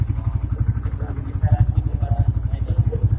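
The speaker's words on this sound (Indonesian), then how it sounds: "Idle-nya itu rata-rata motor 1500 ya pak." Yamaha motorcycle engine idling steadily near 1400 RPM, a close, even low thumping pulse with a faint mechanical clatter, running alone without talk.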